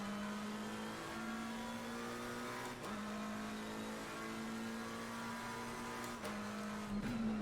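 A McLaren 720S in Assetto Corsa Competizione at Kyalami gives a loud, steady engine drone with a sustained tone that climbs slowly through the gears, broken by a few quick upshifts. No voices are heard over it.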